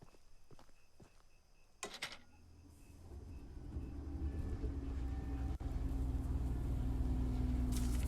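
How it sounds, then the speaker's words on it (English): Train in the video game Choo Choo Charles starting to move: a few footsteps and clanks, then a rumbling engine drone that rises and grows steadily louder and heavier until it fills the sound. "get back on the train before Charles shows up."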